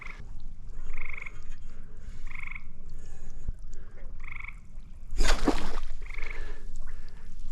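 Frogs croak in repeated short bursts during a night frog spear hunt, a rhythmic chorus close by with a loud splash midway.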